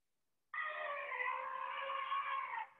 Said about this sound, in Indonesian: Oh, ini suara gajah.